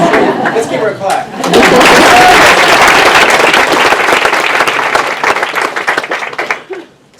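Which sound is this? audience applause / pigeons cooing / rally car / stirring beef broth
audience applause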